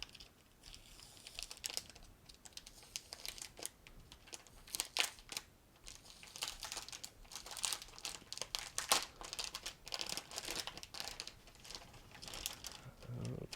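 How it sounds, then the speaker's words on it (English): Plastic packaging around a Tezzare TK61 keyboard crinkles and rustles close up as it is peeled away, a quiet, busy run of crackles and small tears with no pause. "And now we'll open the plastic together."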